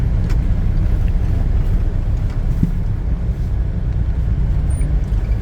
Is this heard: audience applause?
no